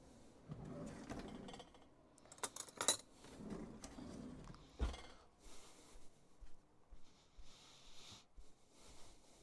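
Someone rummages through a drawer of kitchen utensils in search of a long spoon: metal cutlery clatters and clinks close by, first in a busy jumble, then in a run of separate short rattles.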